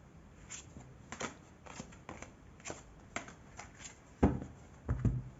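Tarot cards are shuffled softly at close range, a faint patter of irregular slaps and rustles with a couple of louder card snaps near the end, no voices over it.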